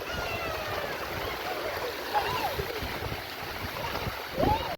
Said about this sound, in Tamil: தண்ணியில் எவ்வளோ அழகாக போய்கிட்டு இருக்குன்னு பாருங்கள்.